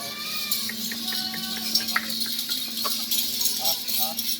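Goats bleat repeatedly in a farm herd, several short nasal calls from different animals close by, mixed with light rattling and jangling, bell-like sounds and a faint steady hum, with no talking.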